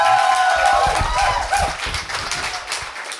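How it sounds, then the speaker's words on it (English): Audience at a bar event clapping, dense loud applause fading slightly toward the end, with voices and cheers mixed in. "let's have one more round of applause for John and all of our speakers"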